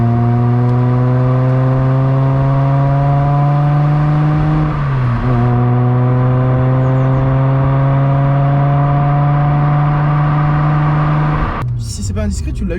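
A Mazda MX-3 with its small V6 engine revs and holds a steady high-rpm roar up close, dipping briefly midway before climbing again, then cutting off sharply near the end.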